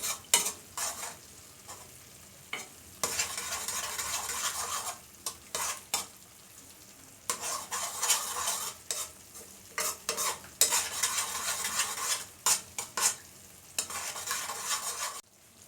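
Pepper steak sauce simmers and thickens in a pan while a utensil stirs it, making a quiet bubbling sizzle broken by repeated scraping strokes, alone without talk.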